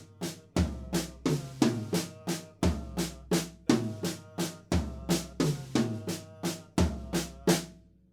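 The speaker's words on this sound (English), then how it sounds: "That's kind of what this tom fill sounds like to me." Drum tom fill in triplets, played alone: a steady run of about twenty-five punchy, resonant tom hits in repeating groups of three, each strike ringing briefly with a deep low body, close and loud.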